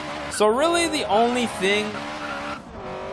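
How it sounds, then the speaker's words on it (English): Honda Civic Type R doing a front wheel drive burnout in Forza Horizon 3, engine revving in sharp rising bursts with tire squeal, loud and close, while someone talks over it. "Let's do a little front wheel drive burnout"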